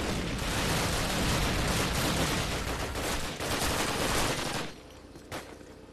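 A machine gun fires continuously in the video game Call of Duty 1 as a loud, dense, unbroken stream of shots that stops abruptly, followed by one last isolated shot.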